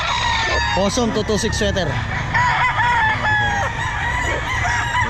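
Roosters crow loudly and close at a pet market, with several overlapping cock-a-doodle-doos and clucking from other fowl, while people talk nearby.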